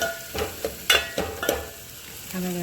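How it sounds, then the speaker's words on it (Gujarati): Tomatoes frying in a pan for Gujarati dal give a soft background sizzle, broken by a series of sharp clattering taps from stirring, then a quieter steady hiss with a low tone at the end. "આમાં બરાબર ટામેટાં શેકાઈ ગયા છે।"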